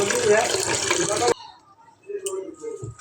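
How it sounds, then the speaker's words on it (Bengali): Several market-bought fish are rinsed under running water: a loud, steady gush of water for about a second, then it cuts off, leaving faint handling sounds and a quiet voice in the background. "তো এইভাবে অনেকক্ষণ মাছগুলো ধুয়ে নিতে হবে"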